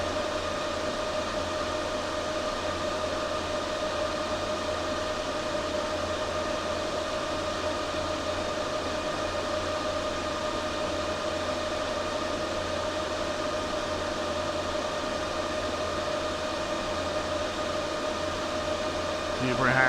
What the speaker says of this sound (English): Right now the fans are pretty much cranking at 100.